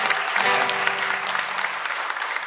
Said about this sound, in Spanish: Bueno, fuerte aplauso